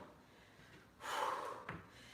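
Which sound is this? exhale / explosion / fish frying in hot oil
exhale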